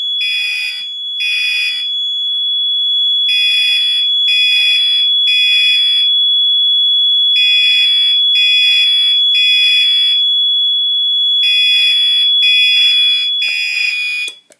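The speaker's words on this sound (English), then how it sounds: "pull the fire alarm." Building fire alarm sounding after a manual pull station is pulled, blaring loud electronic tones in repeated groups of three with short pauses between, continuous and close.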